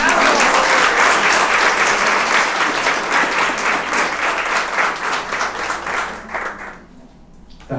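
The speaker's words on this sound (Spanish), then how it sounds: "para quienes pido un fuerte aplauso" Loud, dense applause from an audience at an award ceremony honoring Colombian consulate staff, sustained and steady before tapering off near the end.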